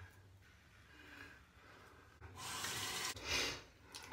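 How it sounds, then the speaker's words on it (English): A tap runs quietly while a Gillette Trac II injector razor is rinsed, a faint steady trickle that swells into a louder splashing gush near the end, no talking. "Rinse off."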